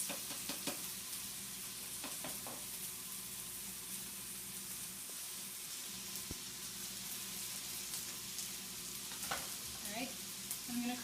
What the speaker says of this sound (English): I want to cook it in that bacon grease